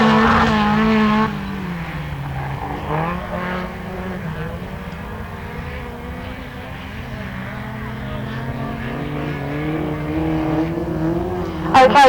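An autograss racing car, number 888, laps a dirt track at St Neots, its engine note droning and shifting in pitch as it passes at moderate distance, with a louder burst at the start and a rising snarl near the end.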